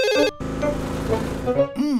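A cartoon telephone rings with an emergency call, giving a bright electronic ringtone with steady repeating tones. A short break comes partway through, then the ringing picks up again and fills the whole two seconds.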